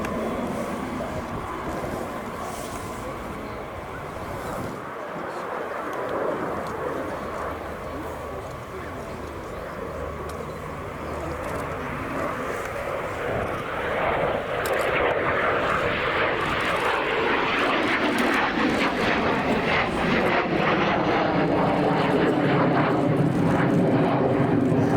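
A rare Messerschmitt Me-262 jet flies a display at RIAT 2023, its distant engine roar swelling steadily louder over about twenty-five seconds while a voice talks over it.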